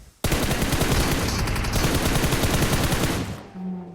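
A sustained burst of rapid automatic fire in a video game shooter, loud and close, a steady rattle of shots lasting a few seconds before it stops abruptly.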